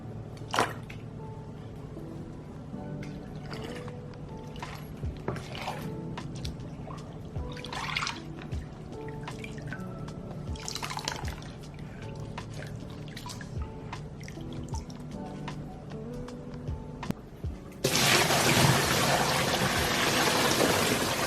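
Water runs and drips while coffee grounds are rinsed out of a bag used for coffee-dyeing Air Force 1 sneakers, with scattered drips and splashes and a loud rush of pouring water near the end.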